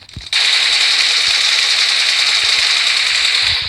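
Rapid automatic gunfire in PUBG Mobile runs as one loud, continuous burst of shots for several seconds, close and dense, cutting in abruptly after a short quieter moment.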